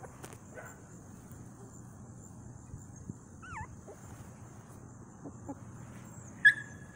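A litter of five three-week-old puppies gives a few faint, sparse high whimpers and whines over quiet room noise, with one slightly louder yelp near the end.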